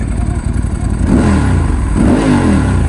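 An engine revs loudly nearby, giving two rising surges over a rough, steady idle.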